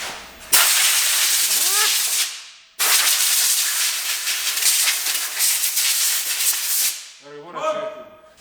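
A vacuum cleaner runs inside a Nissan 370Z during a build, producing a loud, steady rushing hiss. It cuts off briefly, restarts and runs on, then fades out near the end into faint background sounds.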